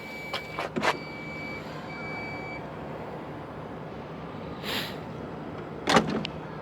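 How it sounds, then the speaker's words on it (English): Lift gate of a 2025 Jeep Grand Cherokee L closing, heard as a few sharp clicks and latch clunks early, then a soft whir and a firm thud near the end, with a steady electronic tone in the background. "So let's close the lift gate."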